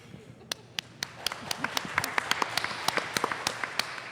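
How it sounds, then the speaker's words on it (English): A modest studio audience welcomes guests onto a talk show. A few sharp, separate claps quickly build into steady, brisk clapping, heard at moderate distance and fairly quiet overall. "So please welcome, and with a warm round of applause,"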